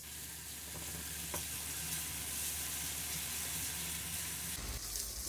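Finely chopped onions frying in hot oil until golden, a steady close sizzle and crackle with a brief stirring clatter, no talking.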